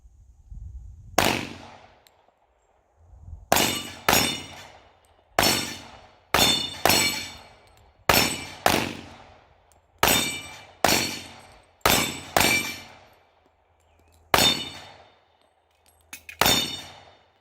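Rapid strings of gunshots ringing off steel plate targets at an outdoor shooting range, loud sharp cracks with metallic clangs in bursts separated by short pauses, no voices.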